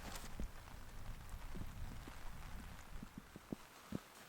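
Rain pattering on a Hilleberg Nammatj 2 tent pitched on soaked mountain ground, a soft steady patter with a few sharper drops and taps standing out near the end.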